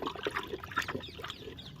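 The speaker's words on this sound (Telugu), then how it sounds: "ఇప్పుడు నేను ఈ ఫర్టిలైజర్ కలుపుతున్నాను అనమాట" Fertilizer is stirred into a bucket of water, giving soft close sloshing and trickling sounds, faint and brief.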